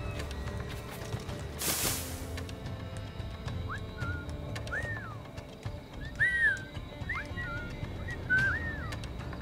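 Short rising and falling whistles, several in a row, from the Assassin's Creed Black Flag game world, sounding over a busy ambient bed after a loud burst.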